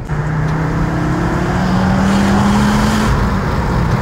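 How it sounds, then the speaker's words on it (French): Turbocharged engine of a 320-horsepower Ford Focus RS Mk2 accelerating hard, its loud, steady drone climbing in pitch as the turbo spools up, heard close and continuous from inside the car. "on sent vraiment le turbo qui commence à charger dans les tours"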